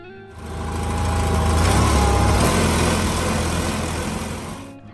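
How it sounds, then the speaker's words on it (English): A Simplicity 4040 tractor engine runs steadily and loudly for several seconds with a deep low rumble and a broad mechanical roar, no voices over it. "the deep engine sound of the Simplicity 4040 rang out"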